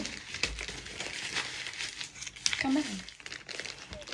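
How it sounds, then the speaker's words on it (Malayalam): Gift wrapping is crumpled and torn open in quick, close crinkling bursts, fairly soft, with a voice talking at times over the rustle. "നമ്മൾ ഗിഫ്റ്റ് അൺബോക്സ് ചെയ്യാൻ പോവാണ്."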